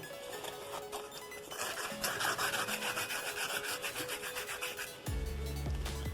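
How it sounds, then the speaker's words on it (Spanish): Continuous rhythmic rasping of wet sandpaper scrubbing back and forth on metal starter motor parts, close by, with a short pause and a knock near the end. "Y aquí vamos a proceder a lijar."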